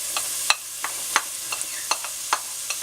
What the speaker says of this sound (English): Saute them until they're tender, about a couple minutes.